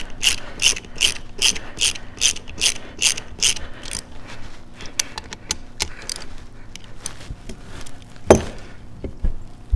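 A hand ratchet snugs down bolts while reassembling a 2004-or-later Harley-Davidson Sportster engine bottom end, giving rapid repeated clicking strokes up close, first in a steady rhythm, then in shorter bursts with one sharp clack.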